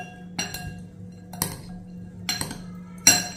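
Metal spoon clinks against a bowl in several separate strikes while a sprouts salad is being mixed, close and fairly loud, with no talking.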